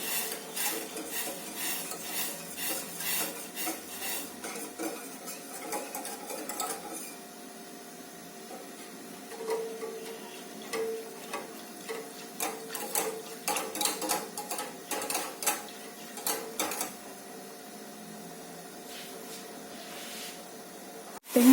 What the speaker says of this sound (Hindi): अब इसको विस्कर की मदद से मैं इसे विस्क करूँगी धीरे धीरे